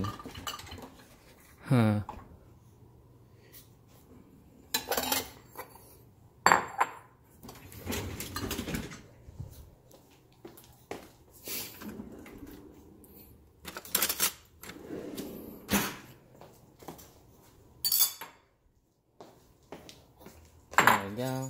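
A bowl and spoon handled while preparing rice and eggs, giving scattered clinks and clatters of dishware and cutlery, some sharp and close, amid kitchen movement and brief talk.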